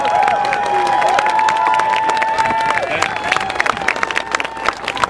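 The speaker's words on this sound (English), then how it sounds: "Put your hands together, rebellious hand claps for Dan Choi" An outdoor rally crowd applauds and cheers for rights activist Lieutenant Dan Choi. Loud, sustained clapping mixes with raised voices and whoops, then breaks into sharper scattered claps toward the end.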